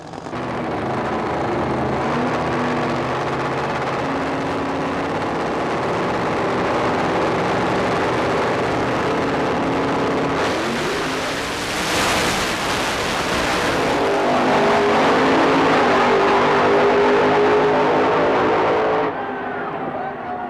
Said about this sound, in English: As the tyres start to smoke, Victor's forced to back off the revs.